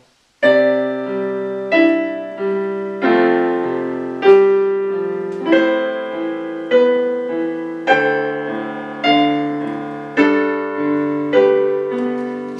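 Piano chords struck on a steady beat over a backing track, each ringing out and fading before the next, about once every second and a half, loud and clear.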